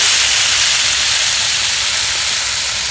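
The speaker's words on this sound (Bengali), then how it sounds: "গরম তেলের মধ্যে বটবটি কড়াই দিয়ে দেব।" Yardlong beans dropped into hot white oil in a wok on a stove, giving a loud, steady, close sizzling hiss that fills the moment without pause or voices.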